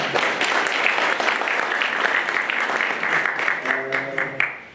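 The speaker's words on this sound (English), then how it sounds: "Let's give him a round of applause." A crowd at a Rand Water excellence awards ceremony at the Zwartkopjes pumping site applauds steadily, the clapping thinning out toward the end as a voice begins to speak over it.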